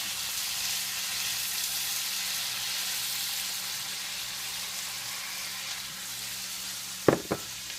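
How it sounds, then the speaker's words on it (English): Sausage and shrimp frying together in a pan give a steady, close sizzle of hot grease, broken near the end by two short sharp clinks or pops. "the reason why I cook my sausage first is when I add my shrimp, you want the grease of the sausage to have the shrimp flavor as well"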